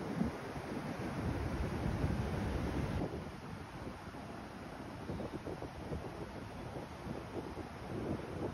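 Waves washing on Guhagar beach during peak monsoon, a continuous broad roar of surf mixed with strong wind buffeting the microphone, steady and fairly faint throughout.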